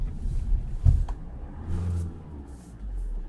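A Tata Harrier SUV accelerates with a low engine rumble and then brakes, heard from inside the car as a steady, moderate drone with a brief thump.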